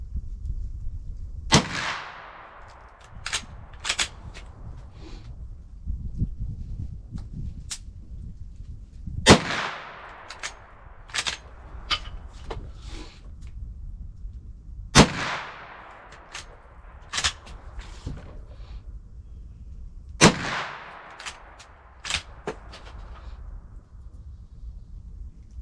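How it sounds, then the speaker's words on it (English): A GForce Arms Saddlehorn .357 lever-action rifle fired at an outdoor range, with four loud, sharp shots spaced several seconds apart, each ringing out with echo, and quieter metallic clicks and handling noises in between. "Just trying to see where these bullets are hitting."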